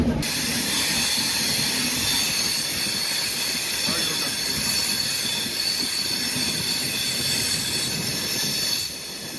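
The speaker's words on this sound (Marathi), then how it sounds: "बघ ट्रेन वाटली झाली पूर्ण युटर्न जाग्यावर युटर्न" Loud, continuous rumble and clatter of train wheels rolling through a tight U-turn curve near Kollam, with a high metallic squeal and hiss running throughout.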